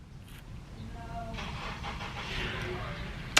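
A car engine starts and runs faintly at a distance as the car leaves, a low hum that swells slightly beneath nearby talking.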